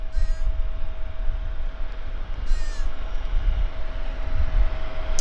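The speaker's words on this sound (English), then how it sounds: "Multiple aircraft at the same time." Aircraft engines rumble at Vancouver Airport in a continuous low roar with a faint steady tone, and crows caw briefly twice in the distance.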